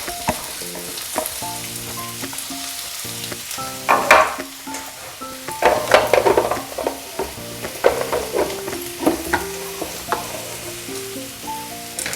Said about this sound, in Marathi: आता हे भाजून घ्यायचं आहे पूर्ण. पण ब्राऊन कलर येईपर्यंत कांदा भाजायचा.